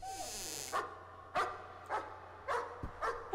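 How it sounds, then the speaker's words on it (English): Ghost dog barking in the horror video game Layers of Fear, a handful of short, sharp barks spaced out over a low droning ambience, moderately loud and fairly close. "Oh, ghost dog, yeah."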